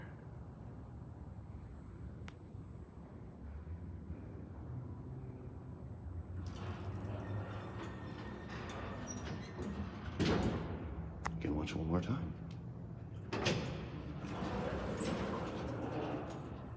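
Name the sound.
Dover door operator on O'Keefe hydraulic elevator door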